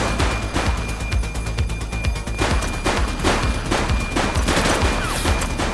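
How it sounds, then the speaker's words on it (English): Police gunfire rattles in The Precinct video game: dense, overlapping bursts of shots and crackling fire from several guns at once, loud and continuous throughout with no voices. "Shots fired!"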